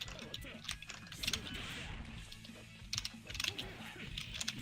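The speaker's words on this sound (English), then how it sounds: "to hear the keyboard sounds out of context" Rapid computer keyboard typing clatters close by in a busy office during a late shift, with keystroke bursts coming in quick flurries over a steady room murmur and some background talk.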